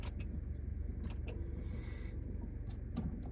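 Audi Q3 150 hp Design Luxe car pulling away on a test drive: a steady low engine and road rumble fills the cabin throughout, with a few faint clicks and a brief whirring motor partway, no talk.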